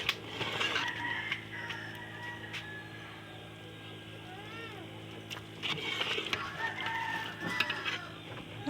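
Chickens cluck and chatter nearby, with a few squawks and a rooster-like call rising in the middle, over a steady background hum.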